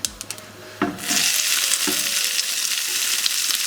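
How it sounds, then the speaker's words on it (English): Mustard seeds pop and fry in hot oil with cumin seeds and dried chilies, a few sharp taps followed by a loud, steady close sizzle with occasional crackles. "When the mustard seeds are popping, add the onion"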